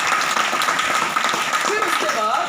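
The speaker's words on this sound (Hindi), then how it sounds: "उसके लिए जोरदार ताली बजाओ आप लोग" An audience claps loudly and continuously at a motivational lecture for students, a dense wash of applause with voices calling out over it.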